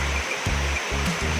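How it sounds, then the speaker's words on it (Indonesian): Steady roar of the waterfall at Srambang Park in Ngawi, a broad continuous rush of falling water with low rumbling pulses, close and loud with no talking. "kita sampai ini di air terjunnya"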